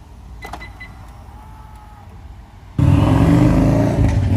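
A Mercedes-Benz car's door locks engage in a brief cluster of clicks with a short chirp. A sudden loud, steady rush of broadband noise follows a couple of seconds later.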